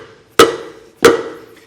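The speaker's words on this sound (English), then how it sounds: "I'm going to hit the end of my screwdriver to help pop it out." Two sharp metallic strikes on the end of a screwdriver to pop out a trailer hub grease seal, close and loud, evenly spaced with brief ringing decay after each.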